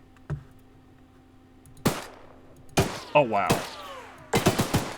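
A train-mounted gun in Choo-Choo Charles fires in sharp, punchy bursts: one lone shot, then a few spaced blasts, then a rapid cluster at the end. A voice briefly exclaims between shots.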